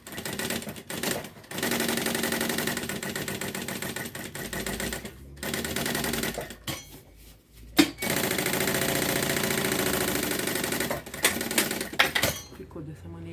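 An electric sewing machine runs a safety seam along the edge of a Paris-style case handbag, its rapid mechanical stitching rattle coming in several sustained bursts separated by brief pauses, close and fairly loud.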